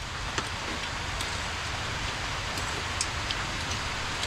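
Steady rain falls in an outdoor setting, a dense continuous hiss with scattered drop patters, close and fairly loud throughout, with no talking.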